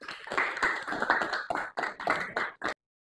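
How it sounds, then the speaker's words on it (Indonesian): Schoolchildren in a math classroom clap their hands together, a close, uneven burst of claps that runs for about two and a half seconds with brief gaps before stopping abruptly. "silakan tepuk tangan anak-anak."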